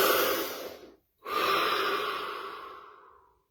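A deep breath during a guided body-scan session: one long, close, airy inhale, a brief pause, then a slow, steady exhale fading to silence, with no talking.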